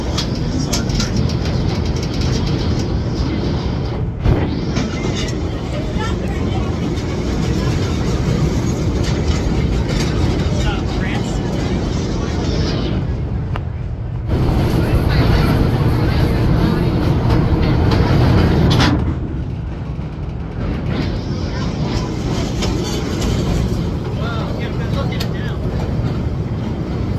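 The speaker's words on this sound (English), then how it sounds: "As we cross the trestle, keep your hands, arms, and elbows inside the train." The Busch Gardens Williamsburg railway train rolls across a long-span trestle over a river, a loud steady rumble and rattle of wagons close by, with a brief change in tone midway and speech mixed in.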